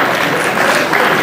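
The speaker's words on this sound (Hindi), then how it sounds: "इनके लिए भी जोर तालियां बजाइए आप लोग" A short burst of loud, dense applause from an audience at a ceremony honouring a senior cotton breeder, heard close and without speech.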